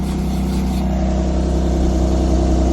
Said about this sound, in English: It sounds alright for a stock exhaust